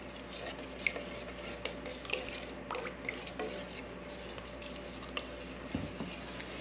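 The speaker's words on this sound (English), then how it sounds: "Give it a good mix." Spring onion being mixed into ingredients in a bowl or pan: a steady low scraping and stirring with occasional light clinks of a utensil, close and moderately quiet, with no talk.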